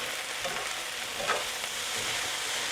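Hash browns fry with a steady broadband sizzle, one brief louder scrape of a metal spatula near the middle and faint fainter scrapes around it, no voices.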